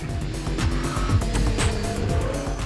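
Touring race car sliding sideways on a track, its engine note droning loud and close with rapid gear and throttle changes and a faint hint of tire scrub, no talking over it.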